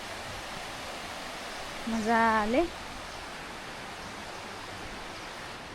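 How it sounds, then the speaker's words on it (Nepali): Water in a river below a hiking trail rushes with a constant hiss throughout. A voice briefly speaks over the steady flow partway through. "यहाँबाट तल खोलाको आवाज सुन्न सक्नुहुन्छ"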